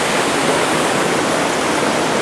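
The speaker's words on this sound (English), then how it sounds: "Just a waterfall." Steady, loud roar of a waterfall, a dense unbroken rush of falling water that fills the whole clip with no voices.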